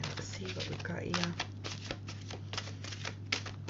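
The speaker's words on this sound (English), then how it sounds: "Let me just shuffle the cards." Quick, rustling tarot card shuffles repeat in brisk bursts, with a soft voice talking briefly at the start and a faint steady hum underneath.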